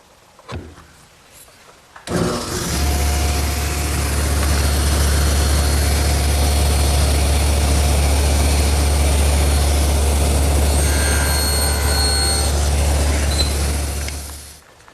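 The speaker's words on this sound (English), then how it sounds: "that material is best removed using the table saw, just nibbling it away" A table saw starts up and runs, nibbling away material for shoulder cuts on the back side of wooden clock rails; a loud, steady motor drone with a low hum persists for about twelve seconds.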